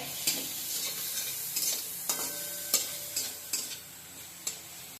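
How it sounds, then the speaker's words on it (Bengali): Grated coconut and shrimp sizzle in a pan while a spatula clicks and scrapes against it in irregular strokes, close and fairly loud. "হালকা একটু ভাজা করে নেব আমি নারকেল আর চিংড়িকে"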